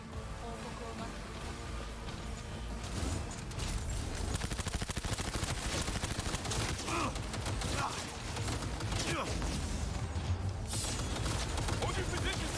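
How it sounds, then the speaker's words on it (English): Dense, sustained gunfire from a firefight in Cyberpunk 2077 rattles on continuously as sustained automatic bursts layered with game effects, with voices calling out amid the shooting. "They're opening fire!"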